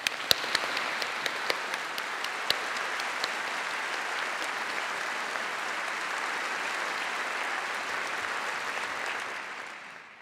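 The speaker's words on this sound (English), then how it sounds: "a warm round of applause as they have created a special atmosphere for this unique event" Sustained audience applause fills a university graduation ceremony hall in honour of conservatoire musicians, a dense wash of clapping from a large crowd that holds steady for about nine seconds before fading out.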